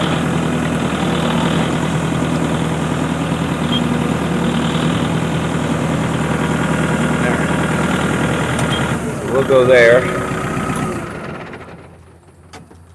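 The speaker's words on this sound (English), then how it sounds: "I don't want the engine to heat up" A farm machine's diesel engine idles with a steady, loud, knocking rumble, and someone talks briefly near the end before the engine shuts off and dies away.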